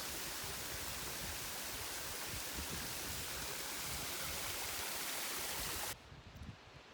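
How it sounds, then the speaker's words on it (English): Loud, steady roar of a waterfall close by in Devil's Head valley, broadband rushing water that cuts off abruptly near the end, leaving quieter background. "Very few waterfalls you can get this close."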